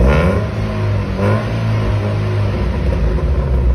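A car engine revs through a tuned aftermarket exhaust muffler, producing a loud, close, deep rumble that holds steady with slight rises in throttle.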